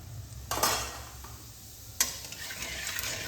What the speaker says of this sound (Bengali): আলু ভাজার তেলে আমি 1/2 চামচ জিরে ফোড়ন দিয়ে দিচ্ছি